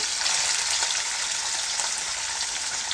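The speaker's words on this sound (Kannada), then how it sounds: "ಎಣ್ಣೆ ಒಂದು ಸ್ವಲ್ಪ ಬಿಸಿ ಆದಮೇಲೆ ಕಟ್ ಮಾಡಿ ಇಟ್ಕೊಂಡಿರುವಂಥ ಪನ್ನೀರ್ ಕ್ಯೂಬ್ಗಳನ್ನು ಹಾಕ್ಕೊಳ್ತಾ ಇದ್ದೀನಿ" Paneer cubes frying in hot oil in a pan for paneer masala, a loud continuous hiss and sizzle with slight crackling, close up and with no talking.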